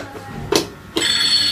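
A mobile phone rings in two short, bright bursts close by, the second tone running on until the end, with no one speaking.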